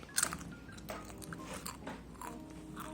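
One crisp crunch as crunchy oven-baked bread is bitten, followed by quieter crackly chewing up close, with no speech.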